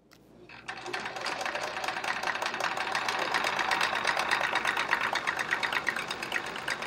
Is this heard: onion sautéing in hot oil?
no